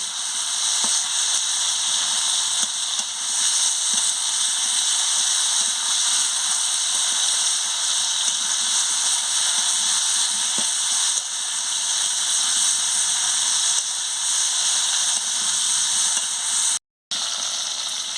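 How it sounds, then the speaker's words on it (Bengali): Potato and pointed gourd fry with salt in a pan, giving off a steady, even sizzle with a few faint ticks and clicks throughout and no talking. "দিয়ে ভালো করে আলু পটলটাকে ভেজে নিচ্ছি।"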